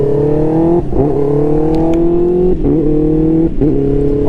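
A Yamaha R7 motorcycle engine revving loudly up through the gears, a close, continuous roar that climbs in pitch, drops briefly at each quick shift, then climbs again.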